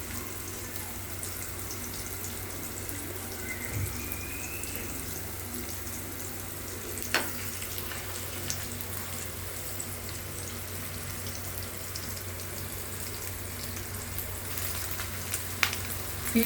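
Surmai fish fries in a pan with garlic, a steady close hiss and sizzle that continues evenly throughout, with a few faint clicks and no talk.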